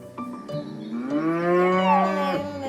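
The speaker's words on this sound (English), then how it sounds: "Hey, Google, what sound does a cow make?" A cow moos once in a long, drawn-out low call, played back through a Google voice assistant smart speaker. The sound is clear and loud, with no talking over it.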